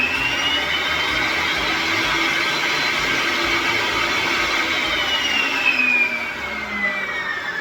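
An old saw with a blade switched on in a new workshop, running loud and steady with a broad whirring hum and tonal whine that holds throughout, then eases slightly near the end.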